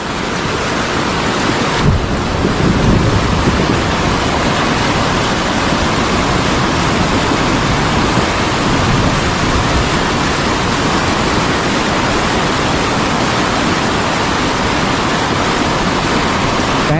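Swollen river in strong flood, rushing floodwater roaring loud and unbroken, a dense, steady torrent with a faint knock near the start and no voices.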